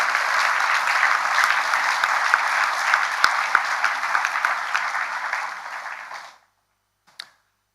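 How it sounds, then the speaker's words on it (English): Audience applause at a school awards evening for Year 7 to 10 students, a steady full round of clapping from a large crowd that fades out abruptly, followed by a brief faint clap after a silence. "If we could give these gentlemen on the stage a round of applause,"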